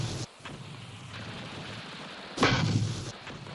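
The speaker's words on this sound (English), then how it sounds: "the M79 grenade launcher, called the Duper from its sound" An M79 grenade launcher fires once, a short, dull thump with a brief burst of noise that fades over a second, heard alone against faint background hiss.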